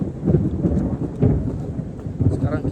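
Low, rolling thunder rumbles continuously during rain on a mountain hike up Gunung Pancar, loud and close with swelling pulses.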